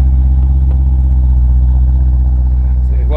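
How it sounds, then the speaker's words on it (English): A 2016 Jeep SRT engine runs close by at a steady loud idle-to-rev drone, a deep constant rumble with a slight rise at the end, and voices talk nearby. "Want to get in there, get some revs for us?"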